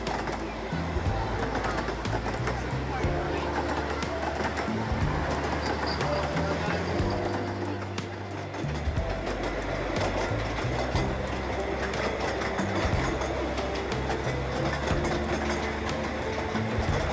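A small train runs along the Longleat Railway, with continuous rumbling and rhythmic clickety-clack of wheels over rail joints from close by. A narrator's voice talks over it throughout.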